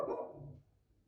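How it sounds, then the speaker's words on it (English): A pet dog in a home barks once, a short sharp bark at moderate distance that fades quickly into quiet room tone. "I better go and see to my barking dog"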